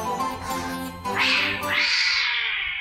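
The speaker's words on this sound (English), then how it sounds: "Here's the scariest cat ever." A cat meows loudly and alone in a drawn-out, wavering call, its pitch rising and bending through a second long yowl like a caterwaul, close and clear over a steady background.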